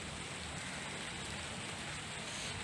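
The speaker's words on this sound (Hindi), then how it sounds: "ये देखो, बूंदाबांदी थोड़ी तेज हो गई है।" Steady rain shower pours down outdoors, a dense, even hiss of drops on surfaces that stays loud and constant throughout, with no voices.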